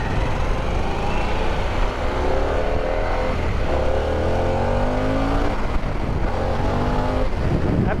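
A Harley-Davidson Pan America adventure motorcycle engine revs loudly and steadily up through the range, close by, with rising harmonic sweeps that climb and fall across several runs without talk.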